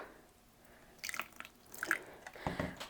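Water poured on one side of a potted Phalaenopsis orchid drips and trickles through the pot in a few soft, close splashes and patters, quiet and separated by pauses.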